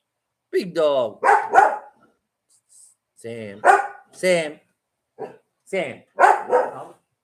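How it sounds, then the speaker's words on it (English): A dog gives a series of sharp barks in separated clusters, loud and close by, and a person says a single word at one point. "Come here, little dog."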